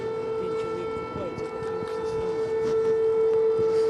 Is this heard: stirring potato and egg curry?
no